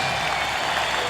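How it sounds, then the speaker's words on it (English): A stadium crowd applauds the color guard at a ballpark baseball game, a dense, steady wash of clapping and cheering from thousands of fans, loud and continuous throughout. "And now another stirring round of applause for the color guard"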